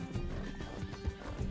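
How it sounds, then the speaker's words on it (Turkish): Rapid rhythmic hoofbeats of a white Arabian horse galloping in Red Dead Redemption 2, with the thudding steps continuing steadily under a low background hum. "Hızlı koş at."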